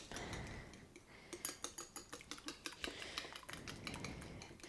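Eggs beaten with a small whisk or dinner fork in a bowl, a quick run of rhythmic metallic clicks against the dish, close and fairly quiet.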